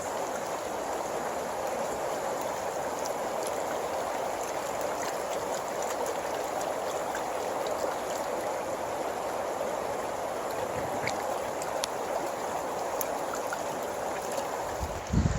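A river in Squamish, British Columbia flows with a steady, dense rushing wash that holds constant throughout, close and fairly loud with no voices.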